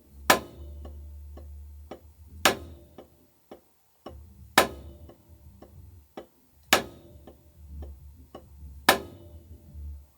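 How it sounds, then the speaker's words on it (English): A single paradiddle permutation played on a drum, with accented strokes recurring every two seconds and soft ghost notes between them, close and fairly quiet. "So it's still the single paradiddle, but shifted or permutated."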